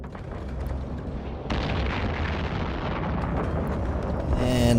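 A spaceship explodes in Eve Online with an abrupt, loud blast that swells into a sustained roaring rumble, while a faint tone rises at the end.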